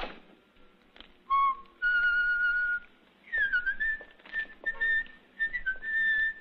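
Person whistling the triumphal march from Aida, a clear melodic whistle in short phrases with brief pauses between them, close and alone in a comedy film scene.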